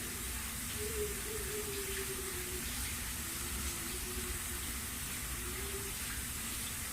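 Water runs steadily from a faucet over hands being rinsed at a sink during a nursing-assistant practical test, a constant close hiss with faint tonal whines, no speech.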